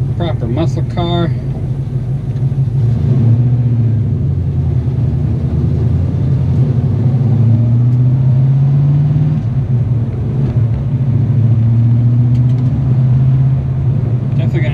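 A 1969 Camaro muscle car with a swapped four-speed manual gearbox drives along, its engine rumbling low and steady with gear-change shifts in pitch, while someone talks over it.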